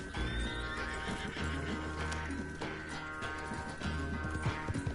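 A horse in Red Dead Redemption 2 on PS4 whinnies and clip-clops over a steady, dense game soundscape, its hooves and neighs loud and close throughout.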